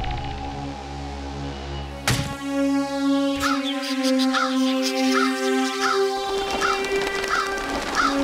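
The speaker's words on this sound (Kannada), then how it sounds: "ಕಾಗೆಗಳು ಹೆದರ್ಕೊಂಡು ಹೋಗ್ಬೇಕು, ಆದ್ರೆ ಇವು ಹೆದರ್ತಾನೆ ಇಲ್ಲ." Cartoon robot crows cawing repeatedly in a farm field, a series of synthetic, tonal caws over background music, fairly loud and steady with no talk.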